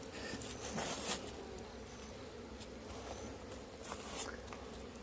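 Honeybees buzz faintly around feeding hives on a cold autumn day, a soft, continuous insect drone with a few brief louder passes as bees fly near.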